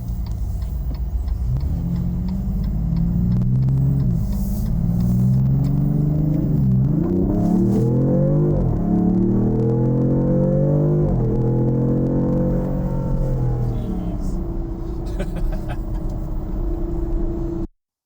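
A 2026 Dodge Charger Sixpack drives with a steady engine rumble that rises and falls through several gear changes, then settles to a smooth cruise, close and loud, with no voices.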